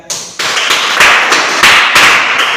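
Children clap their hands in a sharp, loud series of about six bursts at a Bible class, each clap cluster crisp and close, with no talk over them.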